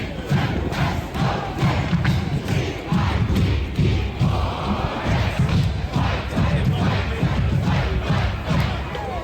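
Clemson football fans chant the Tigers cadence count, a loud stadium crowd roaring in rhythmic bursts with steady thumping beats throughout.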